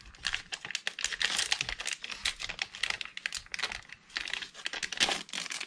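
A Topps Series 2 trading card pack wrapper is torn open, giving a quick, close run of crinkling, crackling foil rips and rustles in irregular bursts, with no talking.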